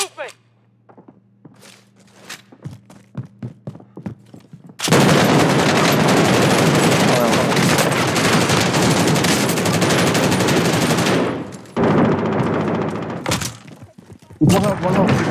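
Rapid automatic gunfire in a Warzone match, a sustained loud burst of shots lasting several seconds, preceded by scattered single shots and thuds and followed by a few more bursts.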